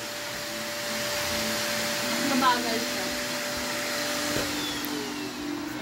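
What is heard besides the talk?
vacuum cleaner running by an inflatable pool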